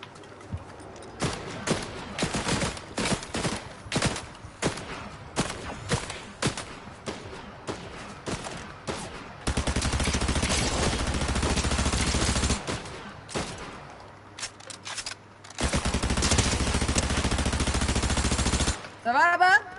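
Rapid bursts of video game gunfire in Fortnite, dense clusters of shots broken by brief pauses, then long sustained stretches of continuous fire, fairly loud and close.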